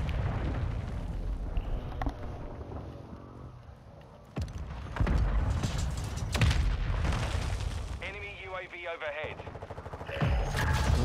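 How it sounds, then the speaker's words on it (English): Mortar strikes pound a video game battlefield, heavy booming explosions breaking through dense crackling gunfire, loud and close, with some talk mixed in. "They never stop mortar striking this"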